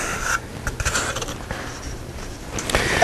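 A Keencut SteelTrak substrate cutter's blade is drawn through foam board in a single pass, making a close, raspy scraping and sliding sound with small mechanical clicks along the rail.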